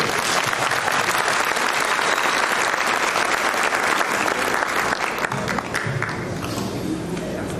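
Loud, dense applause from a hall audience for the co-chairs at an opening ceremony commemorating Şah İsmail Hatayi's anniversary, continuous clapping that eases a little near the end.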